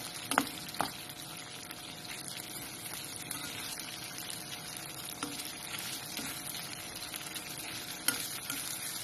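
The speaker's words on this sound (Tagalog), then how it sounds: "And sinunod ko na yung matiram. Yung red pepper oil. Haluin natin." Pork stirred in a pan with red pepper oil, a faint continuous sizzle with occasional light scrapes and clicks of the utensil, fairly quiet and steady with no voices.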